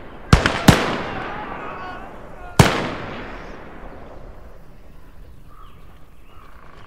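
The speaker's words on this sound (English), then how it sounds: "Enemy artillery!" Enemy artillery fire in Call to Arms Gates of Hell: three sharp, loud blasts, two close together and a third a couple of seconds later, each trailing off in rumbling decay before a quieter stretch.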